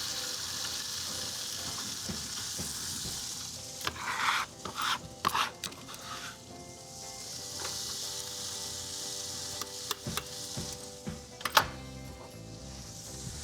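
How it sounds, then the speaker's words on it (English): Roasted peppers, fresh chilies and onions sizzling in olive oil in a pan, a steady moderate hiss with bursts of louder crackle and clattering stirring at intervals, close and without speech. "Add some olive oil. Adding in our roasted peppers, our fresh chilies, and our onions."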